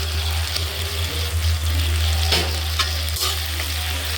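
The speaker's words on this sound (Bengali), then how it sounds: "পেঁয়াজ আর টমেটো লাল লাল হয়ে গেছে, এবার আমি আদা রসুনের বাটা দিচ্ছি" Onion, tomato and ginger-garlic paste fry in a pan with a loud, continuous sizzle and crackle. A low steady hum runs underneath, a few stirring scrapes stand out, and no one speaks.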